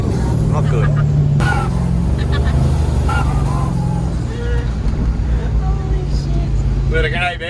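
A twin turbo LS1 Landcruiser engine drones loud and close throughout, with a steady low rumble and rising tones from the turbos. Voices shout over the engine.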